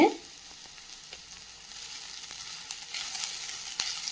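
Onions frying in a kadai for tomato bharta give a soft, steady sizzle close by. A faint crackle runs throughout, swelling slightly toward the end, with no talking.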